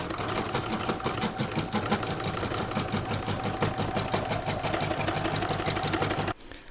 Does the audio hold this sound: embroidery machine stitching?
yes